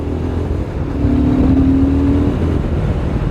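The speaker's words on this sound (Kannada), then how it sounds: "ನಂಬೋಕ್ಕಾಗ್ತಿಲ್ಲ ನಾನೊಂದು ರಾಯಲ್ ಎನ್ಫೀಲ್ಡ್ ಓಡಿಸ್ತಾ ಇದ್ದೀನಂತ" A Royal Enfield Himalayan 450 motorcycle being ridden, its engine droning loud and steady with a low rumble that swells briefly as it pulls harder, wind noise mixed in.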